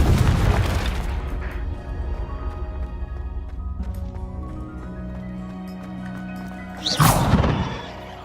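A Confringo explosion spell in Hogwarts Legacy, a loud deep boom at the start that rings out and fades, then a second burst a few seconds later, no speech.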